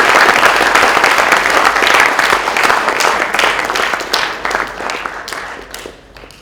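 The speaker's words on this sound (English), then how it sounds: "I think this certainly deserves a big round of applause." A crowd at a school science exhibition applauds: dense, loud clapping close by that gradually thins and fades toward the end, with a few voices mixed in.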